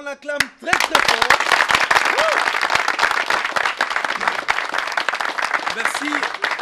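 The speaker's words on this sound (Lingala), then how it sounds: "On l'acclame très très fort." After a brief voice at the start, an audience at a Christian variety broadcast in Kinshasa bursts into loud applause and cheers for a choir, dense rapid clapping with shouts and whoops throughout.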